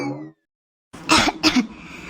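Two sharp, close coughs from a person at home, following a brief moment of speech and a silent gap, the second cough slightly weaker and rasping.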